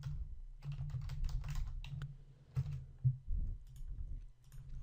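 Hello world code being typed on a computer keyboard, with rapid bursts of clicky keystrokes separated by short pauses and a few heavier key presses, recorded up close with no speech.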